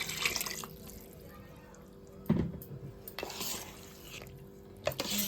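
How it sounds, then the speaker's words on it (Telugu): Tamarind juice pours and splashes into a metal pot of sambar, with a few soft clanks of a utensil against metal, faint and close. "చింతపండు రసం కూడా వేసుకోవాలి."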